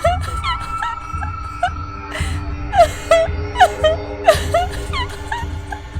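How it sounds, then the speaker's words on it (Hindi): Wailing, moaning cries serving as a sound effect in a Hindi horror story, rising and falling in repeated sobbing bursts over a low droning background, close and fairly loud. "उसी समय अचानक रोने की आवाज और नुपुर की ध्वनि सुनाई दी।"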